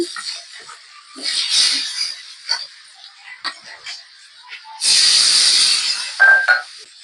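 Onion, chili, chili powder and salt sauté in a pan, hissing and sizzling in uneven bursts with light clinks, then a strong, steady sizzle swells near the end before fading; no voices.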